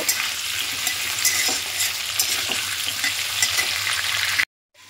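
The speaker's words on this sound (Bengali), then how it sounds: "এবার আলুগুলোকে লাল লাল করে ভালো করে ভেজে নেব।" Potatoes fry in hot oil with a steady, loud sizzle and the occasional stir, ending abruptly in silence.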